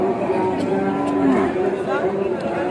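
Bullocks at Joypurhat's Notunhat cattle market give low, drawn-out moos over continuous crowd chatter, fairly close and steady throughout.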